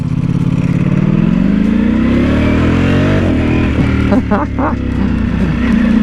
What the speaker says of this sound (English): first time pulling up the driveway on the new Streetfighter